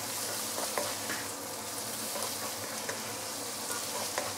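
Fried roast pork with garlic and spring onion sizzles in a pan, a constant bright hiss with occasional soft stirring taps, moderately quiet.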